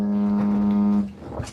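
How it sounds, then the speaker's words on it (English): A mobile phone buzzes against a surface right beside the microphone, a single steady low drone lasting about a second before cutting off. "it sounds like a vibrating phone."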